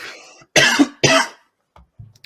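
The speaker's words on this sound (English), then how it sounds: "Bro's coughing." A person on a podcast gives two loud, harsh coughs close to the microphone, followed by a few faint throaty sounds as they settle.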